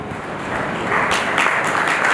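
At an award ceremony, an audience breaks into applause to welcome an honoree, the clapping swelling louder over about two seconds.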